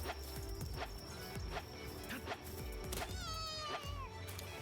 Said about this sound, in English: Apparently my cat is in the midst of a heated battle.